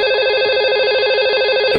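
A toy phone rings with a steady, bright electronic trill that repeats without a break for under two seconds, close and loud, with no voices.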